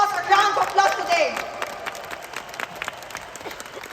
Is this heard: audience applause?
yes